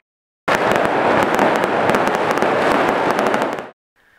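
A fireworks display at a Puríssima festival in El Raval, a dense rapid crackle of bursts and pops that cuts in loudly and stops abruptly after about three seconds.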